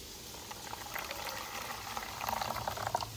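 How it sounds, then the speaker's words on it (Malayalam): Water is poured into a dog's bowl in a home kitchen, making a continuous bubbling trickle that grows busier and louder toward the end, with no talking. "നമുക്ക് കുറച്ച് വെള്ളം ഒഴിച്ചു."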